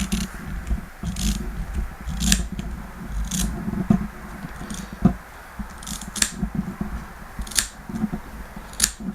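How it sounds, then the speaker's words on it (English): Scissors cut through a rubber neck seal along a marked line, producing steady close crisp snips at an irregular rhythm, repeating throughout with no talking. "Now all I'm going to do now is cut along the line that I marked out."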